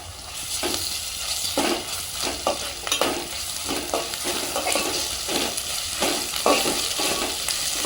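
Ginger garlic paste frying with country chicken in a pan, giving a dense steady sizzle with repeated scraping stirs of a spoon, close and fairly loud, with no talking.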